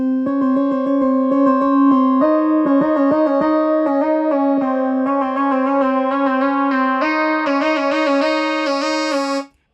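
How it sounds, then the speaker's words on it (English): A bell-like preset on a Peak synthesizer plays a bright, steady run of chiming tones with a continuous sustained pad beneath, rising higher and busier toward the end before cutting off abruptly. "I went back to the peak and used one of its presets, a sort of bell sound"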